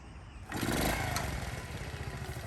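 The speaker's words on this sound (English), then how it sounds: "We're going to start it up and take it for a ride. And this is a cold start." A 1973 Honda Z50 Monkey Bike is kick-started from cold, its small engine catching abruptly after a quiet moment and settling straight into a fast, buzzy, slightly uneven idle heard close up.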